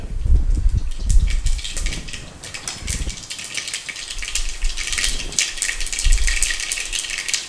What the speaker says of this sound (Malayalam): കടുകിട്ട് കൊടുത്തു കഴിഞ്ഞാൽ കുക്കറായതുകൊണ്ട് പിന്നെ പൊട്ടി ഇങ്ങോട്ട് മേലോട്ട് വരത്തില്ല